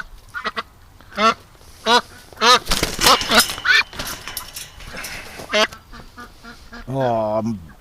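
A duck quacks repeatedly in short nasal bursts close by, ending with a longer drawn-out quack, while a person talks over it outdoors.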